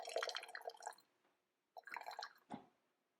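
Water pours from a Fellow Stagg EKG gooseneck electric kettle in a full stream, two short splashing pours separated by a brief pause, ending in a drip, close and fairly quiet.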